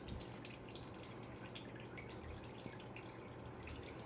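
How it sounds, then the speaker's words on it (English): Motor oil draining from the bottom of a Subaru engine during an oil change, a steady close trickle and drip into a pan throughout, with no talk. "some more oil started draining out of the bottom"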